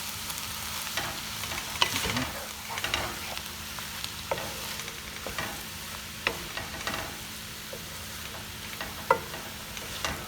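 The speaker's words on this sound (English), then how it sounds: "little frying around with the onion, ginger, garlic" Saag paneer fries with onion, ginger and garlic in a pan, a continuous soft sizzle broken by sharp clicks and scrapes of a stirring utensil, with no talking.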